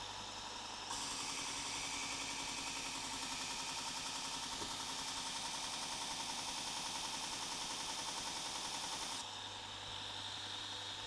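A Sorby Pro Edge sharpener grinding a chisel, starting abruptly into a loud, steady buzzing whir that holds for about eight seconds before cutting back to a lower background hum.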